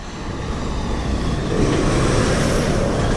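Cars on a road roll past close by in a steady broad roar of traffic that swells louder midway, with no talking.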